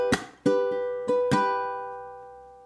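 A ukulele plucks bar 8 of a theme: four bright, close note attacks in uneven rhythm, the last one left ringing and slowly decaying, with no talking.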